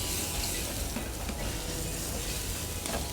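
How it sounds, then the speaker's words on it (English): Chopped garlic sizzling in oil in a hot pan, a loud, dense, continuous hiss and crackle held close and steady throughout, with no talking. "So we need to finish it in a pan. Okay. So we'll add some garlic."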